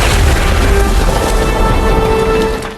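A grenade explosion in a Stalingrad street-fighting scene, heard as a loud, sustained, rumbling blast with a noisy crackling wash that fills the whole clip and only starts to fade at the very end.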